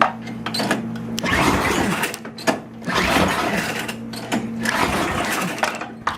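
A Craftsman 10/32 engine cranks in long mechanical churning bursts separated by short pauses and never catches, loud and close.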